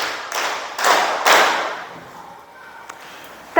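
Classroom hands clapping in a few sharp, fairly close bursts, the first three loud and closely spaced, then fading into quieter room noise with a faint tap near the end.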